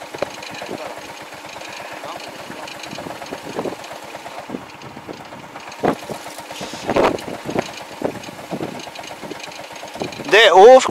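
Small engine of a homemade fertilizer-spreading machine runs in a farm field with a steady chugging drone and light wind noise, while people talk and sharp clanks break in now and then.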